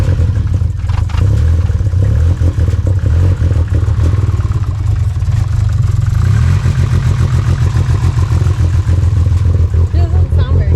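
A motorcycle engine revs hard toward 8,000 RPM right after an oil change, a loud, sustained mechanical roar with rattling clatter that stays dense and close for the whole stretch.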